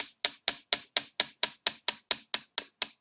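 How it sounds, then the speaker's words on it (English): Steady run of thirteen sharp metallic taps from a hammer striking a steel chisel during traditional hand engraving, evenly spaced about four per second, close and crisp with quick decays and no talk. "what I like about hammer and chisel"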